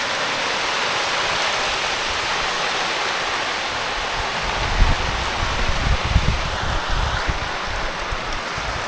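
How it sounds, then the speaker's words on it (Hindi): Heavy rain pours down steadily in a dense, loud, continuous wash, with a few heavier gusts of wind and splashing rising briefly near the middle; no one speaks. "ये देखो भाई बारिश चालू हो गया एंड बहुत तगड़ा लेवल का बारिश हो रही है"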